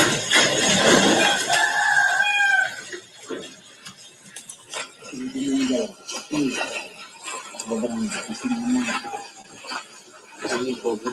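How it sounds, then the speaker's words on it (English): Chickens cluck and squawk faintly in the background, an intermittent, far-off chatter under someone talking throughout. "Can you hear the chickens in the background making noises on this video?"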